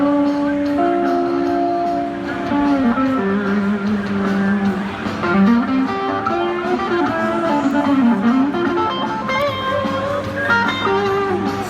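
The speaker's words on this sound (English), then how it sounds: "we're going to hear a little bit of how the guitar sounds" An electric guitar plays melodic lines over a steady backing track during an electronics maker demonstration, with sustained notes and bends staying loud and continuous throughout, and no talking.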